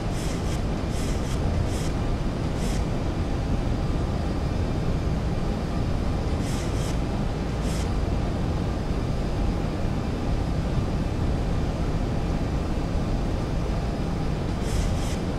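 A Boeing 737-800 airliner in the X-Plane 11 flight simulator roars with a steady, dense engine and wind drone as it flies downwind with flaps set, joined by a few faint high chimes and clicks.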